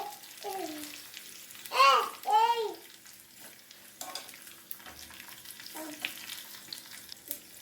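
Crushed garlic and lentils (urad dal) frying in oil in a pan for an Andhra-style pachadi, a soft continuous sizzle beneath, with a voice speaking briefly over it and occasional stirring clicks.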